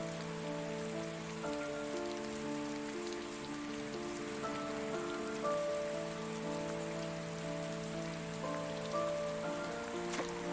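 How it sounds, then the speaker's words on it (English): Steady rain falls outdoors, pattering continuously on surfaces as a dense, even wash of drops with no voices, holding at a constant level throughout. "It's raining."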